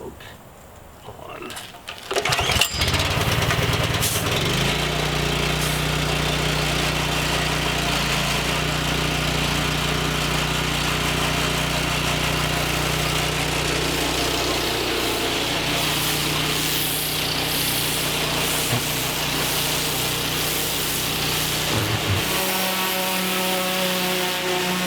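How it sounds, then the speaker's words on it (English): A small pull-start gasoline engine on a pressure washer sputters to life after a moment and then runs steadily at a constant roar for the rest of the time. "it makes pulling the pull start on the engine a lot easier"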